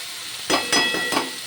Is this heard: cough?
no